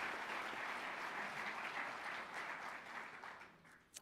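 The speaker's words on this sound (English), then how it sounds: "Can we recognize the members of the stage party with a round of applause?" A crowd at a fall commencement ceremony gives a broad, sustained round of applause. The wash of clapping fills the hall, then thins slightly toward the end.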